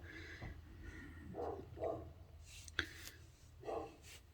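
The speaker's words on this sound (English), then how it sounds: "Excuse the dogs in the background, they're not my dogs." Dogs bark faintly in the background, a few muffled, spaced yips and woofs far off in a quiet indoor room.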